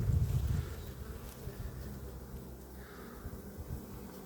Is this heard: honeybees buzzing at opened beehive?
yes